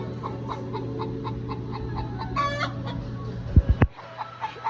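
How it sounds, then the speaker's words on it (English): Battery hens and mother hens cluck in a repeated, bobbing rhythm close by, with a brief squawk and a few thumps near the end. "These are my battery hens that are making all this noise, and these are the mama hens"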